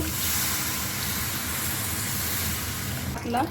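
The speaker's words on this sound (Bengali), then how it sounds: "এখন পানি দিয়ে দিব।" Water is poured into a hot kadai of sautéed spices and rui fish head, making a steady, close hissing rush. A brief voice cuts in at the very end.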